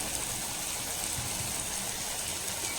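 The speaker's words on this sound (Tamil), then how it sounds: "மழை பெய்யுது" Rain falls outside a village kitchen, a dense, steady hiss of drops with a faint watery rush underneath and nothing else standing out.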